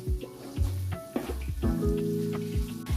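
Sauce with frozen coriander simmering and being stirred in a pan, heard as soft bubbling and pops with scattered knocks from the stirring utensil, close by and without talk.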